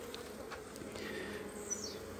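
Honey bees hum steadily around an opened backyard beehive, a soft continuous drone with individual insects passing close now and then.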